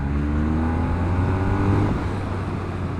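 A BMW R1250 motorcycle accelerates in a third-gear roll-on up a hill, its engine note steady and loud with a rising pitch that peaks, then flattens into a continuous drone.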